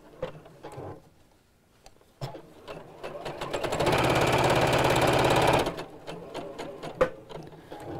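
A domestic sewing machine stitches a box cushion cover, running a steady, loud whirring burst of several seconds between short starts and handling noises, with no voices.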